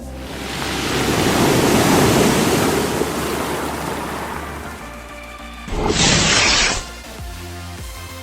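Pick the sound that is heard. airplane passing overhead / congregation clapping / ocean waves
ocean waves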